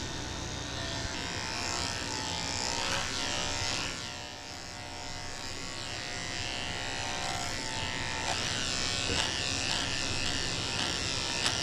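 Electric dog clippers with a number 3 blade drone steadily through the coat of a damp Shih Tzu, Havanese and Yorkie mix, a loud constant buzz that shifts slightly in pitch as the blade meets her hair.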